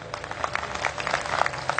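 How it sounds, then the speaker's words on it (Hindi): A stand-up comedy audience applauds: a faint, steady patter of many hands clapping, with no voices heard over it. "तालियां ये गिनी चुनी मत बजाइए"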